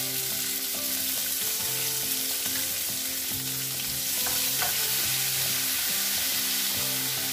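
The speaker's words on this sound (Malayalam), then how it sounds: "വെളിച്ചെണ്ണ ചൂടായിട്ടുണ്ട് അതിലോട്ട് നമ്മൾ ആദ്യം ഇട്ട് കൊടുക്കുന്നത് വെളുത്തുള്ളിയാണ്" Garlic sizzles steadily in hot coconut oil for a prawn pickle, a dense continuous frying hiss with a few stirring clicks, close and even throughout, no voices.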